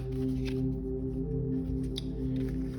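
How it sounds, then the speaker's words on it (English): Tarot cards being shuffled by hand close up, with soft papery rubs and a few brief snapping slides over a steady background hum, no speech. "So I need to shuffle these again, guys."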